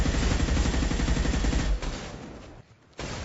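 A creature firing its cannon in a Mass Effect prototype, a rapid loud burst of repeated booming shots for under two seconds, then quieter rumbling and a brief pause before the noise resumes.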